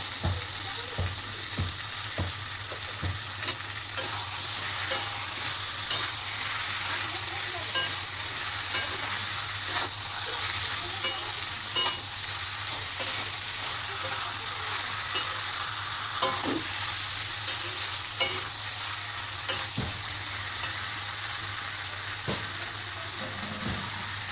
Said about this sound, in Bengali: এবার আমি আলু পটল একসঙ্গে তুলে দিচ্ছি। চিংড়ি মাছটাও তুলে দিচ্ছি।